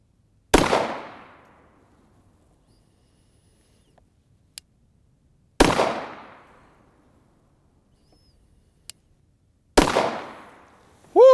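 Three sharp Glock pistol shots ring out at an outdoor target range, spaced about five seconds apart, each a loud close crack with a fading echo, with a couple of faint clicks between shots and no speech.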